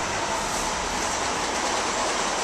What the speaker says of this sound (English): the train going past